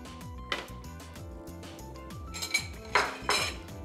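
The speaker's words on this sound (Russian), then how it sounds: "Выливаем яйца, распределяем по сковороде" Metal utensil clinks and scrapes against a frying pan as eggs are poured and spread, with a few sharper knocks near the end over a background of music.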